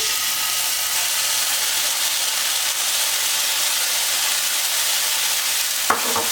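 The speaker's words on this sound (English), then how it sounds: "I'm gonna throw on my garlic." Garlic sizzles loudly and steadily in a hot frying pan, a continuous close hiss with a brief clack near the end.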